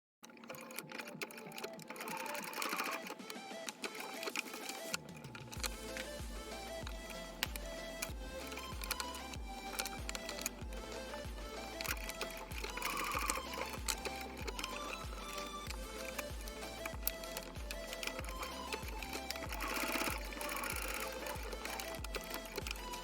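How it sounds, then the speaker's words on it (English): A sewing machine stitches the sides of a sleeve in a steady, fast mechanical run, starting after a few seconds of quiet and continuing evenly at close range with no talking. "now we're just going to stitch on the sides, and one sleeve will be finished"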